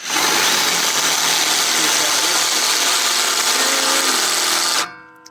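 A power drill whirs loudly and steadily up close for several seconds, then cuts off abruptly and spins down to quiet.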